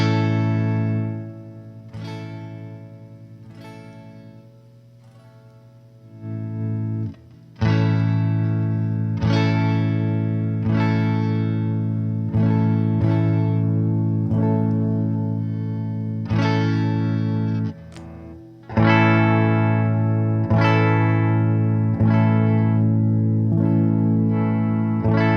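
A Squier Stratocaster electric guitar played through distortion rings out in sustained chords and held notes, loud and thick, with brief pauses between phrases and no talking.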